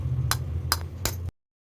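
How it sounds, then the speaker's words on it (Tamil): An egg being cracked into a milk batter gives three sharp, close taps roughly evenly spaced over a second, followed by sudden silence. "இப்போ நம்ம வந்து இதில் ஒரு முட்டை வந்து உடச்சி போட்டுக்கலாம்"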